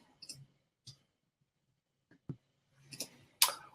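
Scattered clicks of typing on a computer keyboard, a few isolated key taps spread unevenly with long quiet gaps, quiet and close, the last strokes sharper and louder.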